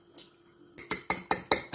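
An egg beaten with a fork or whisk in a bowl, heard as a quick run of five sharp, close clinking strokes after a brief faint scrape.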